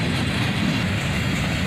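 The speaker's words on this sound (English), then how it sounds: "Here we see a graffitied up blue tank car as the train is starting its slowdown into Needmore Yard." A freight train with a graffiti-covered blue tank car slows into Needmore Yard, a dense continuous low rumble and rolling roar of railcars passing close by, steady and loud throughout, with no voices.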